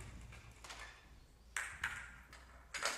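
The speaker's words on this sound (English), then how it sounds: "So I have this bowl and I have some marbles in it." Marbles rolling and knocking in a bowl used as a sound instrument: a faint, quiet rolling rattle with a few sharper clinks and ringing pings, close and alone.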